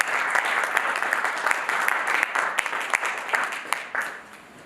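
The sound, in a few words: applause from meeting audience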